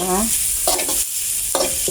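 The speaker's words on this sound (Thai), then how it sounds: "ผัดพริกเครื่องในไก่นะคะ" Chicken giblets and chili being stir-fried in a hot pan, a steady close sizzle with scraping stirs of the spatula throughout.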